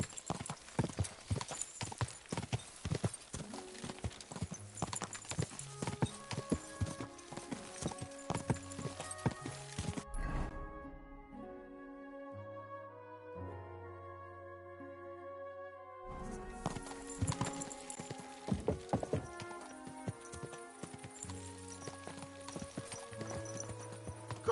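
Horse hooves clip-clop steadily in the video game Kingdom Come: Deliverance II, a continuous trotting rhythm that drops out briefly mid-way under music before resuming.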